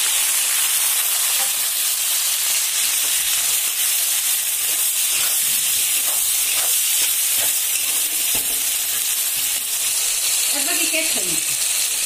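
Chopped onion sizzles loudly in hot oil with fried garam masala while cooking chicken kosha, a constant close crackling hiss with occasional stirring scrapes and no speech.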